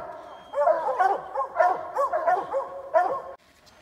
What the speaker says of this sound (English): There goes Lil, man on the backside, and the black dog Annie